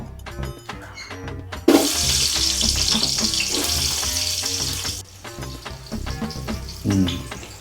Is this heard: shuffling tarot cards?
no